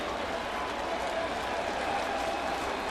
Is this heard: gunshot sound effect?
no